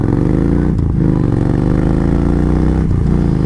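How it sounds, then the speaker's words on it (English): A Yamaha Stryker 1300 motorcycle fitted with an aftermarket Cobra exhaust rumbles loudly up close, revving with two short dips where the throttle blips between strong, throaty pulls. "This one has aftermarket Cobra exhaust, so it definitely sounds a little bit better in my opinion."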